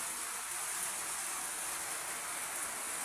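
Heavy rain pours down at an outdoor fish market as a dense, steady hiss of falling water, constant and loud throughout without pause.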